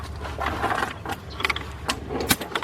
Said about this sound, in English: get our 3/8 drive in ratchet, 4-inch extension, 3/8 drive, and I got a swivel 10mm 3/8 drive socket